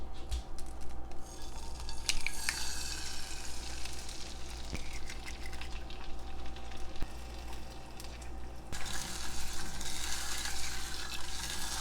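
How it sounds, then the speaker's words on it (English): An egg frying in a hot skillet from a budget power-outage emergency kitchen kit, a steady close sizzle and crackle that holds for the whole stretch with occasional faint clinks. "I'm going to crack another egg and put it in this skillet"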